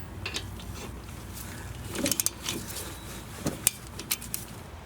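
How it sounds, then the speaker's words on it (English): Brake caliper bolts hand-tightened on a 2011–2016 Scion tC during a front brake pad and rotor job, giving faint metallic ratcheting and clinking clicks in short clusters over a quiet background. "Now first we will hand tighten the two bolts"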